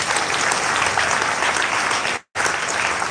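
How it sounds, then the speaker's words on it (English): Loud, sustained audience applause at an induction ceremony in Owerri, Imo, dense and continuous apart from a brief dropout near the end. "Please keep the applause coming."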